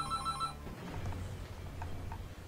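A telephone rings with a repeated electronic tone for about half a second, then gives way to background game sounds from a Dead Rising 3 session, with no talking.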